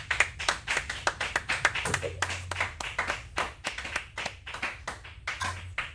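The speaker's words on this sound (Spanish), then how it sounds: "nosotros vamos a darle unos aplausos virtuales por la participación" A few people clap for a conference speaker in a virtual session, the claps sparse and uneven with a voice talking in the background.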